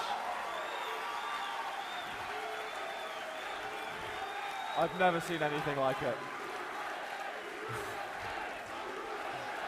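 Quakecon 2016 audience erupts after the Quake Live finals: steady applause and cheering fill the hall, with a burst of shouting in the middle and a voice speaking over the crowd.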